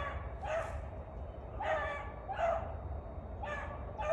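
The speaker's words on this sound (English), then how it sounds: "whimpering and whining" A hare-hunting hound whimpers and whines outdoors in the field, repeated high thin cries coming every second or so over steady wind-like background noise.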